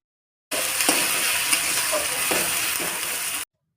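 Salt, turmeric and chili powder being stirred into a hot pan for a Bengali pabda fish curry, giving a continuous bright sizzle with occasional scraping clicks of the spoon, close and steady for about three seconds before cutting off.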